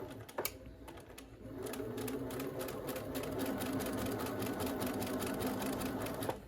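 A sewing machine stitches across pleats on a fabric medical face mask, a rapid mechanical clatter of the needle running continuously at close range after a brief start, with a few small clicks at the beginning and end.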